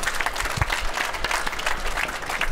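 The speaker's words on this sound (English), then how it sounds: "please give him a huge round of applause" An audience applauds a speaker taking the stage at a trade-fair forum, dense continuous clapping from a crowd that stays steady and fairly loud throughout.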